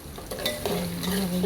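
Brief, close sizzle of garlic sautéing in a pan, a steady frying hiss with a spoon stirring and scraping through it.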